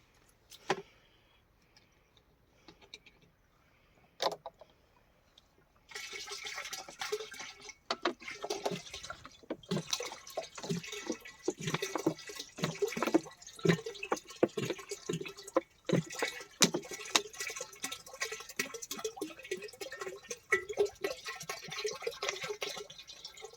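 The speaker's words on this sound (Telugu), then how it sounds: "ముందు ఈ వేప కషాయం పోయి అందులో" Neem seed decoction is poured into a container, a sustained splashing, trickling liquid stream with irregular drips, starting after a few faint knocks and continuing close and moderately loud, with no talk.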